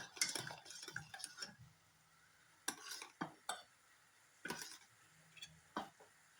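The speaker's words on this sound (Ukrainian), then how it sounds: "Ставлю каструлю на вогонь та постійно помішуючи, варю допоки крем не загусне." Intermittent scraping and clinking of a spoon against a saucepan while stirring custard over heat, in short bursts separated by quiet pauses, with a faint background hiss.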